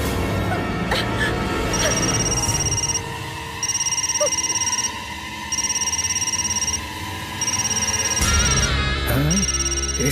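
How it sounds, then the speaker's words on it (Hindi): A telephone rings in a repeated electronic pattern of short bursts and pauses, clear over a dramatic musical underscore. "इसके बेटे का फोन है।"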